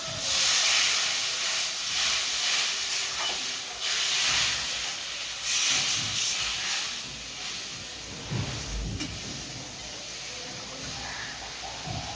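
A broad steady hiss of water hitting sautéed masala in a hot pan, sizzling continuously throughout and fading slightly toward the end.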